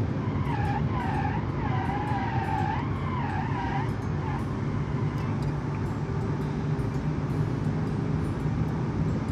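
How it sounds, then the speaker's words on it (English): Tires of a Gladiator Hyper UTE with a 5-liter V8 screech and skid continuously in BeamNG.Drive, a loud wavering squeal over a steady low engine drone, fading into sustained sliding noise. "spinning the tires and smoking every single corner"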